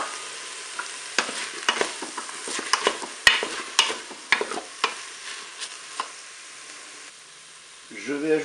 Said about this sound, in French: 4 minutes de fonction dorée, je vais ajouter mes poivrons